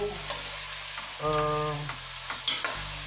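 Chorizo stew for a Portuguese ragout fries and browns in a pot, a close steady sizzle with a brief tonal hum in the middle and scraping stirs, no talk.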